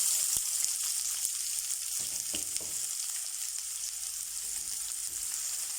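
Onions fry in hot cooking oil in a kadai, a loud continuous hiss and crackle close up, with a few faint stirring clicks and no talking.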